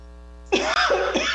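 A single sharp sneeze bursts out loud and close in a quiet indoor room with a steady electrical hum, followed by a brief breathy tail, during a Spanish-language talk about fishing villages near the Sea of Galilea.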